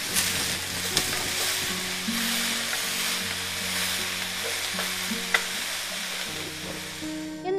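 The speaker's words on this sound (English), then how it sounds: "Now we'll saute and stir for 3 minutes." Vegetables sautéing in a pan for a turkey shepherd's pie, giving a steady broadband sizzle with occasional scrapes and clicks of a stirring utensil, continuous and close with no talking.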